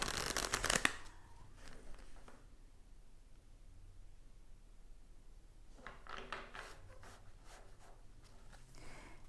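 Tarot oracle cards being shuffled and drawn by hand: a brisk burst of riffling at the start, a quiet pause, then more soft card flicks and slides close by, with no voice.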